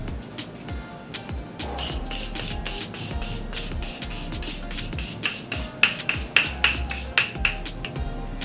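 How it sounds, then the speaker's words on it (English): Morphe Continuous Setting Spray sprays in a series of short, close hissing bursts, which come faster and sharper toward the end, with no talking. "I'm using the Morphe Continuous Setting Spray."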